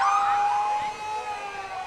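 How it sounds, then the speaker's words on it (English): An older Hudson Fire Department engine, number one, sounds its siren during the 2019 Hudson Booster Days parade: a loud, steady, tonal wail with rich harmonics that slowly glides downward, with no voices over it. "And you can hear the sirens going, I'm sure."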